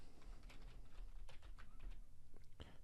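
A quiet run of computer keyboard keystrokes, several quick taps clustered together and close by, with no voices.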